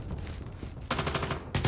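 Call of Duty gunfire crackles in two rapid bursts of automatic shots, loud and close, over a steady game background with no talking.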